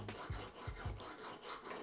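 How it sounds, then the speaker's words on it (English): Faint, rhythmic rasping as a small file scrapes back and forth in several short strokes, sharpening the plastic edges of a windscreen-wiper clay carving tool. "I use a small file to grind the edges"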